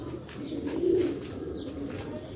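Rooftop pigeons coo softly and low, a murmuring call swelling near the middle before easing off, set against a faint background with no talking.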